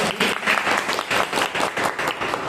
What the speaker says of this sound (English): So it's a big round of applause for everyone